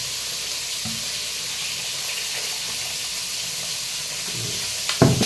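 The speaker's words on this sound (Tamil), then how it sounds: "காய்கறி வதக்குனதில் இந்த கறியை போட்டு நல்லா வதக்குறோம்" Mutton sautéing in a pan with vegetables for kulambu, a steady close hiss and sizzle holding throughout, with a few faint clatters and a louder knock near the end.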